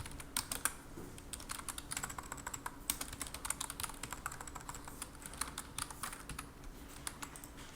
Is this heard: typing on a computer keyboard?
yes